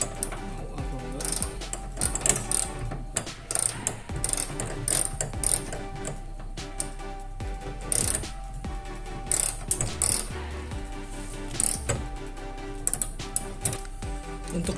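A ratchet wrench tightens the lower bolt of a hood strut on a Mitsubishi Outlander Sport, making bursts of rapid, close clicking with short pauses between strokes.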